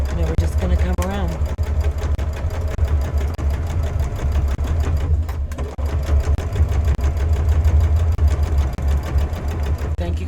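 A sewing machine stitching fabric place mats runs continuously with a steady mechanical whirr and rapid needle rhythm, loud and close, with a brief pause midway.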